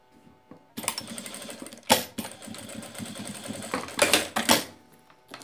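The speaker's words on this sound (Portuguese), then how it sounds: "vou passar uma costurinha de segurança aqui, só para prender essa parte" Domestic sewing machine running a short line of stitching on fabric for a coin purse, a close buzzing motor in bursts with sharper clatters between runs; no talking.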